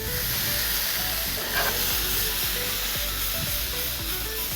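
Masala pasta with turmeric sizzling loudly and continuously in a hot pan as it is tossed and stirred, with faint scraping underneath.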